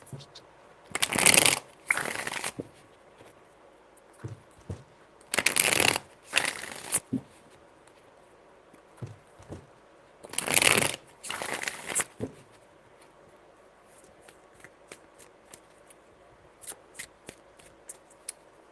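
Three separate bursts of tarot cards being shuffled, each a brisk, crisp riffle lasting about two seconds, close and fairly loud, with quiet handling noises between them.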